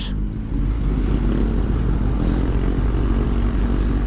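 Kawasaki ZX10R motorcycle engine fitted with an Akrapovic exhaust, idling steadily with a deep, throbbing low rumble that stays loud and constant throughout, with no talk.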